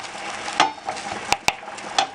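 A spoon stirs risotto with white wine in a pan, giving soft scraping and a faint sizzle, broken by a few sharp clinks of utensil against the pan.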